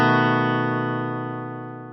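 A single electric guitar chord rings out, its bass note sounding first before the rest of the chord is strummed, then sustains and slowly decays alone.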